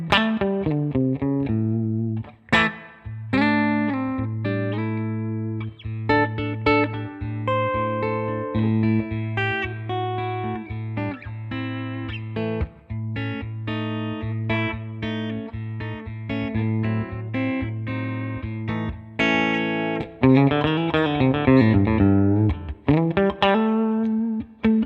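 Classic T Telly Telecaster-style electric guitar played through a Tweed-style amp capture on its cleanest setting, with a steady low note under bright picked chords and single-note lines, then a denser strummed passage near the end.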